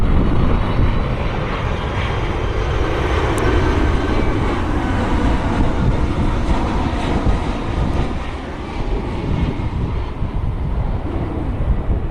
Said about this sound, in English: FedEx 356 Heavy. Inbound for Memphis, it's a